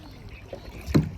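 A kayak moves through water on a lake in Bengaluru, with soft paddle swishes and a brief louder splash or knock near the end, close by.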